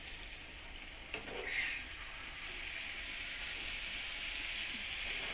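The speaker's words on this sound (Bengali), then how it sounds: "আস্তে আস্তে সুন্দর করে ভাজতে হবে।" Bata fish fries in a pan with a steady, hissing sizzle close up, with a brief clatter near the start, no talking.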